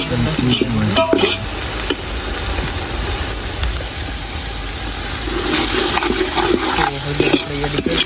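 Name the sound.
stirring green pigeon peas with ginger and chillies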